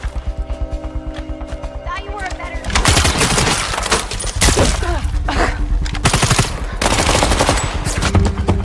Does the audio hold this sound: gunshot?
yes